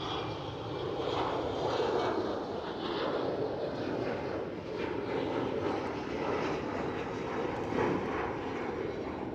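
A KLM Cityhopper Embraer E190 jet roars steadily at Schiphol Airport, a broad continuous engine rumble at moderate distance with faint wind noise, holding even loudness throughout with no talk.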